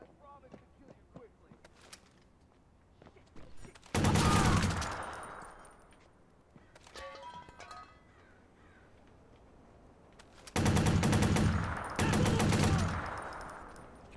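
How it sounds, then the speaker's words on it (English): Bursts of machine gun fire in the game Watch_Dogs, two loud sustained volleys of roughly a second or two each, separated by quieter gameplay sounds and scattered shots. "can't stop this machine gun, man"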